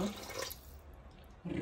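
Ordinary tap water runs into a bowl for a semolina harsha dough of oil, thyme, salt and yeast, a soft steady trickle in a kitchen, brief and moderately quiet, ending with a louder splash.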